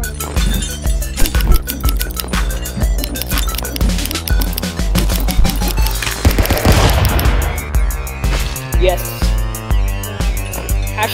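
Gunfire in the brawler Stick Fight sounds as rapid repeated pops and rattling bursts over a loud, pounding game soundtrack, continuous and busy throughout.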